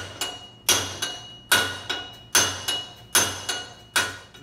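A hammer strikes a half-cut steel axle gusset again and again to bend it, with about eight sharp, ringing metallic blows at an irregular pace, close and loud, with no talking.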